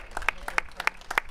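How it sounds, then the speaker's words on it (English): An audience at a rally supporting the people of Tigray applauds, heard as a few hands clapping in a brief, loud, rhythmic sequence of sharp claps up close. "let's do a round of applause"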